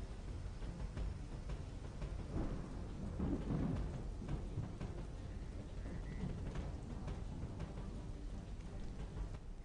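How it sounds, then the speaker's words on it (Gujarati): Light pre-monsoon rain shower in Bharuch, Gujarat, early in the morning, with low rumbles of thunder swelling midway over a steady wash of rainfall, no voices. "ધીમી ધારે વરસાદ પણ વરસવાનું શરૂ થઈ ગયું"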